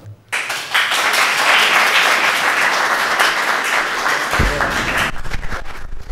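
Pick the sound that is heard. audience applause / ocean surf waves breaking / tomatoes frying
audience applause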